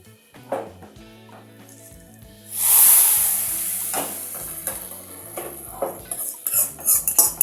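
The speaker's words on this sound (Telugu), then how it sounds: "ఈ పోపని సాంబార్లో వేసుకుందాం" Hot tempering hits a pot of sambar with a sudden loud sizzle that fades slowly, framed by scattered clinks of a metal spoon and pot.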